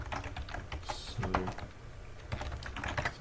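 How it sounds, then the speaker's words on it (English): Fast, irregular clatter of typing on a computer keyboard, close and moderately loud, continuing steadily through the whole stretch with no talk over it. "it's hard to talk about something while I'm typing"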